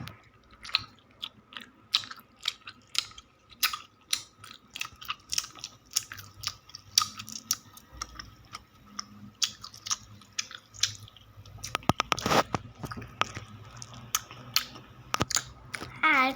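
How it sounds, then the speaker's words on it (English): Someone chews sour Lightsabers candy close to the mic, a run of sharp, irregular crunchy bites and mouth clicks, with a denser burst of crunching near the end. "I'm gonna eat some more candy."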